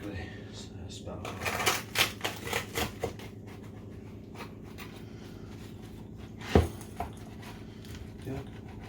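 A knife cuts a crispy Yorkshire pudding in half with a quick run of sharp crunching, crackling strokes, then a single louder snap, heard close over a steady background hum.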